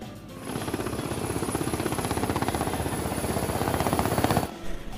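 An aircraft comes in to land in an anime, heard as a loud, rapid rhythmic mechanical chopping drone that holds steady for about four seconds, then cuts off abruptly.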